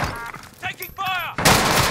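Rapid gunfire in a video game bursts out loud and close, with a sharp burst of shots near the end. A voice speaks briefly just before it.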